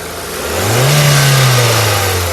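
Once more the engine of a 2015 Hyundai Creta S climbs from a low idle into a sustained close-up rev, then settles slightly, with no voices over it.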